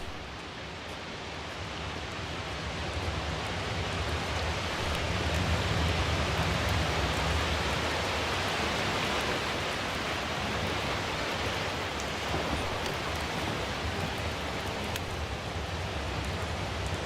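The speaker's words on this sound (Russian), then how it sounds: "The storm's getting worse." Heavy storm rain in The Invincible, a steady, dense wash of broadband noise that swells slightly midway and holds without pause, with no talk over it.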